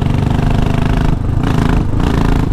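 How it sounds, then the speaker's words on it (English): A Royal Enfield Classic 500 Limited Edition motorcycle engine runs close by with a loud, thumping, steady throb that is briefly interrupted by a couple of short dips. "after a long time I got a chance to ride a Royal Enfield"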